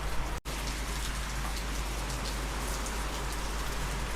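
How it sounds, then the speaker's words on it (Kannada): Heavy rain pours down in a dense, steady hiss of drops striking surfaces nearby, continuous and unbroken apart from a tiny dropout at the start, with no voices. "ಮಳೆ ಒಂದು ಜೋರ ಐತ್ರಿಪ್ಪ"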